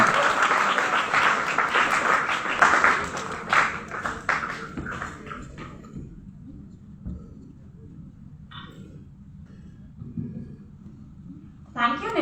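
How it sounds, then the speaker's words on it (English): Conference audience gives a round of applause that is strong for the first few seconds, then thins out to scattered claps, while a presenter speaks over it. "A round of applause for her because she did a splendid job in terms of coordinating."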